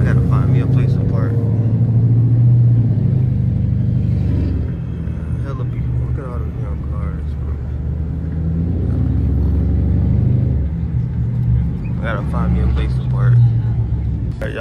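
A Mercedes-AMG car's engine rumbles steadily and loudly at close range, a deep continuous drone that swells slightly while driving slowly through a parking area.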